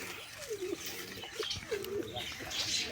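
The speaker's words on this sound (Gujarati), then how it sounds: "તો અહીંયા બધા આપણા કબૂતર બેઠા" Nearby pigeons give soft, rolling coos in a few repeated phrases, with light chirping and a bit of background rustle.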